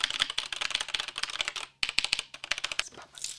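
Typing on a Logitech G x League of Legends keyboard, a rapid run of close, crisp key clicks that stops briefly midway and then resumes.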